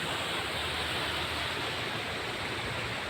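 Gentle surf rolls onto Sabang Beach in Baler, a steady broadband wash of breaking waves filling the air without pause, moderately loud and close, with no voices.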